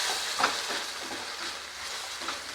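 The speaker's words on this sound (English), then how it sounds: "in the same pot, I'm going to put the onions, of course the cut onions and ginger and garlic" Onions, ginger and garlic frying in oil in a pot for butter chicken, a steady close sizzle and hiss with occasional stirring scrapes.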